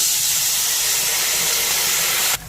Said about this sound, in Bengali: এবার দিয়ে দেবো অল্প একটু জল